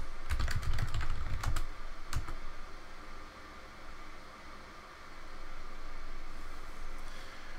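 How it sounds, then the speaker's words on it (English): Rapid keystrokes clatter on a computer keyboard in quick bursts, close up, then fade to a quiet background hum with occasional faint taps. "you'll also be able to hear the typing much better"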